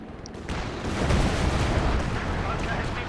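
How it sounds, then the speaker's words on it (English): Artillery counter-barrage in the Company of Heroes 2 video game, a dense rumble of booming blasts and crackling impacts rolling on continuously, loud and layered. "nice counter barrage right there"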